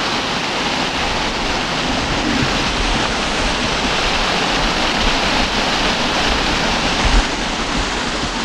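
A river waterfall pours steadily close by, a dense, unbroken rush of falling and churning water, loud and even throughout with no voices.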